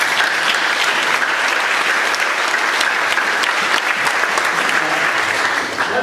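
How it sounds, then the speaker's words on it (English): An audience applauds at a 2014 college athletic hall of fame ceremony, with dense, sustained clapping filling the room and no break. "I want to give him a round of applause."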